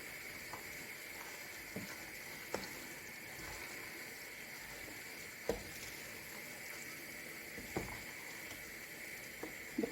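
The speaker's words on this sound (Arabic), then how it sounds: "هنا توا باش نحرك المقرونه" Macaroni being stirred through tomato sauce in a pan, a steady sizzle and bubble with occasional soft clicks and scrapes of the spoon, close and moderately quiet, with no talking.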